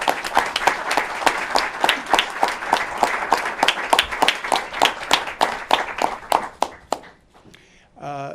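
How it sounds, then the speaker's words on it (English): Sustained applause from a gathering at a New York COVID briefing, a dense run of sharp individual claps in a steady rhythm that thins out and stops near the end before a brief sound at the close. "Let's give everyone a round of applause."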